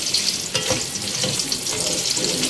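Cumin seeds and four medium onions frying in a pan, a loud continuous bright sizzle with occasional stirring scrapes, no voices.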